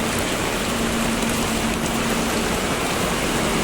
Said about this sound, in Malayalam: ഇവിടെ നല്ല മഴയുണ്ട് ഗൈസ്. ഭയങ്കര കാറ്റും മഴയാണ്.